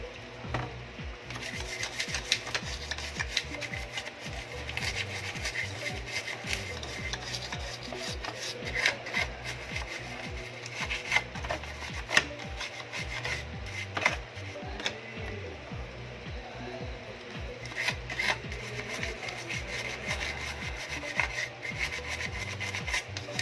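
Carbon deposits are scraped off the circuit board of a faulty Homage Axiom 1002 inverter, a continuous, close, quiet rasping rub with rapid repeated strokes throughout.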